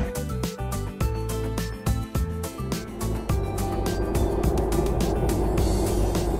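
Cartoon UAZ car engine chugging and revving on its way to an ice cream factory, loud and close, with bursts of music-like tones early on before a steady motor roar takes over.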